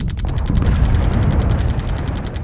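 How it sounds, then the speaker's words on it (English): Dense, continuous rumbling of distant gunfire and explosions, a steady low roar with rapid irregular pops layered throughout. "You hear the incessant sounds of gunfire above."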